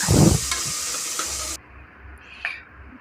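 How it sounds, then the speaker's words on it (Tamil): Onions sautéing in a pan for tomato rice, a broad hissing sizzle with a loud stirring scrape at the start, then dropping to a quieter sizzle with a brief clink near the end. "அந்த வெங்காயத்தை நம்ம நல்லா செவக்க வதக்கணும்"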